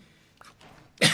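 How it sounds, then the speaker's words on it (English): A streamer sneezes once near the microphone, a sudden loud burst after a moment of near silence with only a faint breath before it. "when was the last time I sneezed on a stream internet?"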